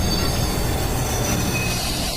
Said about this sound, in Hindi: ट्रेन स्लो होकर रुक चुकी है।